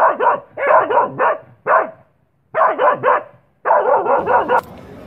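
Several dogs bark in quick overlapping bursts, loud and close, with short pauses between volleys and a brief whimper at the end.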